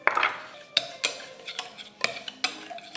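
A utensil scrapes and clinks through a garlic, salt, pepper and steakhouse seasoning mixture in a pan, with a series of sharp, close taps and scrapes coming roughly every half second.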